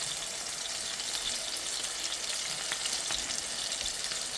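Chicken saltimbocca sizzles in hot oil in a pan, a steady bright frying hiss with occasional small pops, constant and close with no talking.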